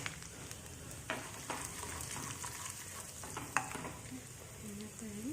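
Finely chopped ginger, asafoetida and spices sizzle steadily in a hot pan of oil for kara pongal, with soft stirring scrapes and clinks over the constant frying hiss and a voice speaking quietly.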